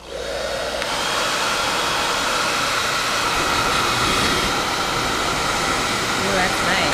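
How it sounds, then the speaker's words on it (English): A handheld hair dryer, freshly fitted with a repaired power cord, blows warm air with a steady, loud, close whooshing drone that keeps going without a break. "Let's test out the hair dryer."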